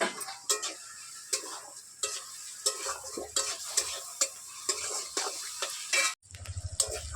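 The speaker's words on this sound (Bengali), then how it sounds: "আলু আর মাংস আমার একসঙ্গে ভাজা হচ্ছে।" Potatoes and chicken stir-fry in a pan under a soft sizzle, with repeated clattering scrapes and knocks of a spatula against the metal at an irregular rhythm, close and clear, no talking.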